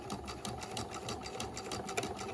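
A sewing machine runs a plain seam along the folded edge of bias tape for a bound seam finish, with a fast, even mechanical stitching rhythm heard up close and alone.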